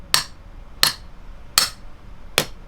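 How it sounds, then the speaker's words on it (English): A hammer taps a short shifter piece into its bushing during an IS300 W55 transmission install: four sharp, evenly spaced metallic strikes close by, with no talking. "then you're gonna take the hammer and just"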